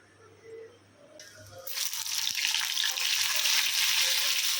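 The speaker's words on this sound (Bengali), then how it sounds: "এই 3টে ভাজা আমি চটপট করে আগে ভেজে নিই" Slices of potato, eggplant and pointed gourd hit hot oil in a kadai, a sudden loud, steady sizzle that swells after a quiet start and holds close and bright to the end, with no talking.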